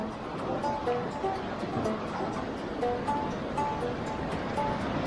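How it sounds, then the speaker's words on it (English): Fast floodwater on the St George River rushes under an old mill, a continuous loud roaring wash with gusty wind buffeting the microphone and faint intermittent tones. "water, she's moving fast"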